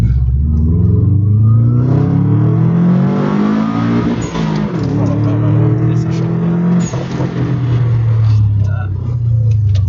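A black Subaru's engine revs loudly and continuously up close, pitch climbing and falling through several surges, with people talking over it.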